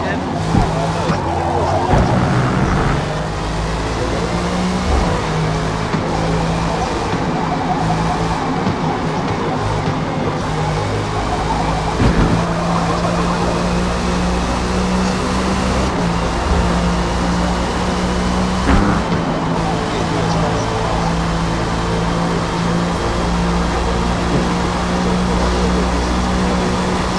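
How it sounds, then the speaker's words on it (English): Naturally aspirated W16 engine of a P1R GT race car under test, a loud continuous howl that rises and falls through gear changes and passes, with brief tire squeal, filling the whole stretch. "they had just a naturally aspirated W16. That actually sounds awesome."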